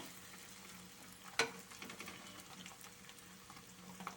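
Egg cooking in mutton kothu curry in a pan, a low continuous sizzle with one sharp scrape as it is turned and faint clinks, quiet and close, no talk.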